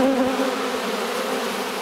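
Honey bees drone steadily around a hive in late summer, a dense, continuous buzz with a strong low hum that stays even and close throughout, no voices over it.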